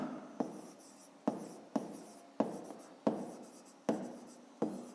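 A pen writes on paper during a fifth-grade maths exercise, heard as short, close scratching strokes, each starting with a light tap, repeating in a steady rhythm.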